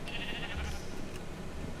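Minecraft sheep bleating in short wavering cries across the clip, fairly close and clear, with low game background noise and no talk.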